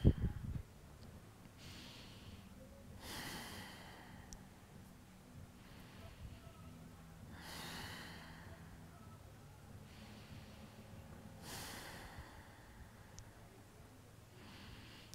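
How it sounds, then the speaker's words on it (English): Slow, deep breaths during a seated yoga twist, each long airy inhale and exhale spaced a few seconds apart, close and soft with a quiet room behind. "5 deep breaths."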